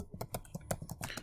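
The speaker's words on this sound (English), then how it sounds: "You would open up Google and you would simply type convert" Quick keystrokes tap on a computer keyboard, about ten light clicks in a brisk uneven rhythm, close and quiet with no voices.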